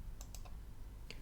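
A computer mouse clicks while a document is saved in Word, producing a few faint, sharp ticks scattered over a low background hum with no speech.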